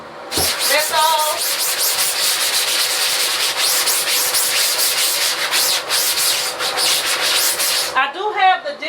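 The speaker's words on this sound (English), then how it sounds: "I'm not doing any hard scrubbing, just agitating this" A brush agitating and scrubbing a surface during mobile pressure-washer cleaning, a continuous loud rhythmic bristly swishing that runs nearly the whole time, with a short voice at the start and again at the end.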